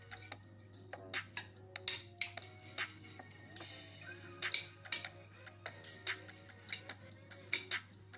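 A metal utensil clinks and scrapes against a bowl while Nigerian salad is mixed, giving irregular close taps and clatters over a low steady hum.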